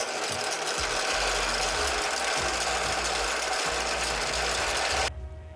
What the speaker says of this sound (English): I'm going to start out by drilling a 1/4 inch hole at the bottom mark on each one of those